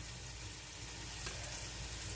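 Food sizzles steadily in a frying pan, a soft continuous crackle and hiss that stays faint but unbroken throughout, with no voices.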